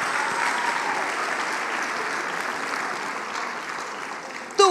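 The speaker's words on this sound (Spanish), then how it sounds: "un aplauso." A church congregation applauds during a sermon: steady, dense clapping from a large indoor crowd that holds for several seconds, with a brief voice cutting in at the very end.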